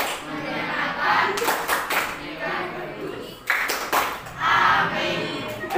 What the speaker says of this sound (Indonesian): kita tepuk matematika dulu biar lebih semangat